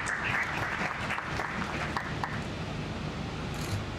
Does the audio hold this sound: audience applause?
yes